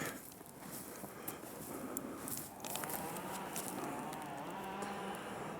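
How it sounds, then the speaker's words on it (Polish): An outdoor wood fire burns in a forest where trees are being felled, giving a close, steady hiss and rush with scattered sharp pops and crackles throughout. "Tu się ogień pali, ładnie się pali."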